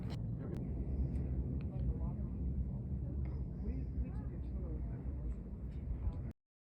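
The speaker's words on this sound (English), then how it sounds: "Can you hear it? It is like a jet airplane." Roaring rumble of the Kilauea volcano eruption in Hawaii, a steady, loud, jet-like roar filling the whole stretch with people talking over it, cutting off abruptly near the end.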